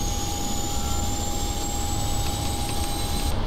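Boeing 777 engine spooling up in the PMDG flight simulator game, a steady loud turbine whine with a rising high tone over a constant low rumble, no talk.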